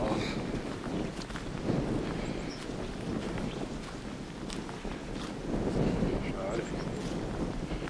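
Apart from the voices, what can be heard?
wind blowing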